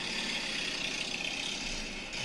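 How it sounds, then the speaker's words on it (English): A Harley motorcycle engine runs with a steady, loud, broadband rumble and roar, continuous for the short stretch, with no voices. "It's a motorcycle."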